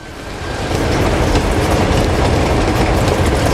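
Loud, steady rumble and clatter of a long train rolling along in Uncharted 2, wheels clacking under a dense roar of wind and rail noise, no voices.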